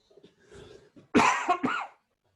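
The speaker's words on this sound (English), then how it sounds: "I didn't want to cough into the mic." A short throat-clearing cough up close, following a few quiet breaths and murmurs.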